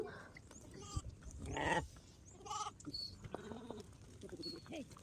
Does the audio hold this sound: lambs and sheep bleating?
yes